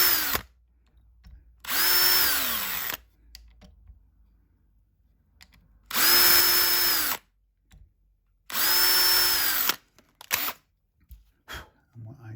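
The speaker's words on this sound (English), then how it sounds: "we're going to drill holes with my guide, my depth guide." A power drill whines loudly in three separate bursts of a couple of seconds each, drilling tuner holes in a guitar kit headstock with a depth guide, with quiet gaps and small clicks and handling noises between them.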